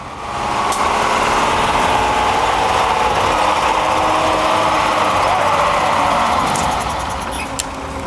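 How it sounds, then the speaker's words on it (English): A Unimog truck's engine drones steadily while dragging timber through dense forest, a continuous loud mechanical hum with a brief higher rattle near the end. "this Unimog drags timber like it's towing twigs"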